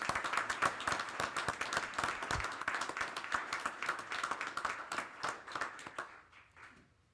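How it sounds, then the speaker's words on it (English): Applause from a committee meeting audience, a dense patter of many hands clapping steadily at moderate distance before tapering off at the end, with no talk over it. "I want to give a round of applause before we even go any further"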